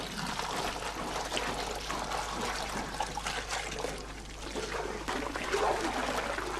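Dye is dissolved in a bucket of cold water in an old wool mill, a steady pouring and trickling of liquid that runs continuously and close up, with no voices.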